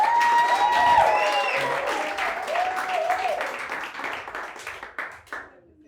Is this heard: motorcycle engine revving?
no